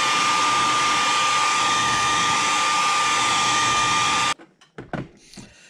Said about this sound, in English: Sorry about the dryer